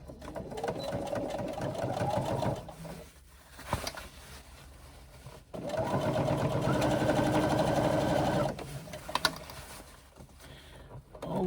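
Sewing machine stitching a 1/8 inch seam around a swim bag, running in two long steady bursts with a pause between and small clicks after, loud and close.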